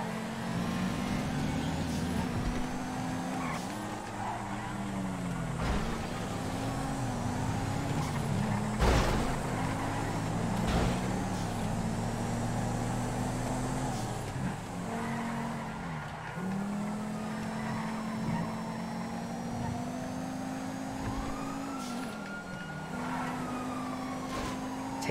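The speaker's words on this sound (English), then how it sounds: "Two coupes battling it out in a random race for position." Coupe cars racing in GTA V FiveM, with engines droning and revving continuously, pitch rising and falling through gear shifts, loud and close throughout.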